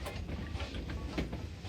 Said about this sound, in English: Oh look, it's a train over there.